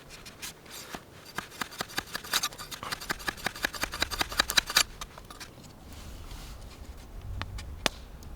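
Quick rhythmic scraping strokes of a blade or file working a wooden spear shaft outdoors, close and fairly crisp, running in a steady series before giving way to quieter sporadic scrapes.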